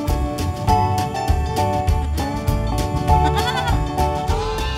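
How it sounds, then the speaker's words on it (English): Lambs at an animal sanctuary bleat loudly and close by, their overlapping cries piling up almost without pause alongside goats and piglets. "There are all sorts of lambs, piglets, goats, of all shapes, all sizes, and all colours."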